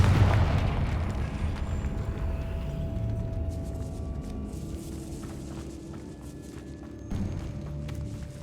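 A Confringo blasting spell goes off in Hogwarts Legacy, a heavy booming burst at the start that rumbles and fades over several seconds, with a smaller thud near the end.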